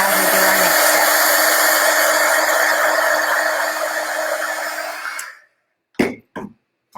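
A hair dryer blows steadily and loudly over a DIY Dollar Tree welcome sign for about five seconds, then switches off, leaving a few short clicks and knocks.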